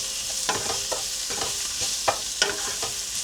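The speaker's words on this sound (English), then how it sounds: "I'm going to add the gram flour and mix up well." Okra coated with gram flour being stirred and fried in a pan, a steady sizzle underneath with repeated scraping strokes of a spatula at an uneven rhythm, close and fairly loud.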